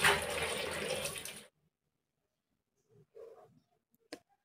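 Spinach leaves washed under a running kitchen tap, a steady close rush of water that stops abruptly after about a second and a half, followed by a few faint handling knocks.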